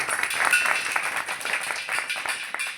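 Audience at a bhajan satsang gathering clapping together, a dense, steady patter of many hands held close and loud for the whole stretch without letting up.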